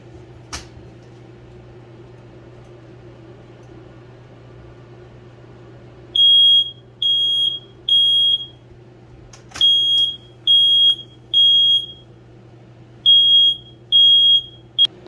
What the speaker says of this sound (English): Sorry about the smoke detector.